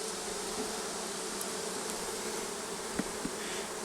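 Honey bees hum and buzz in a dense, steady drone around an open hive during a hive inspection, with a couple of faint knocks.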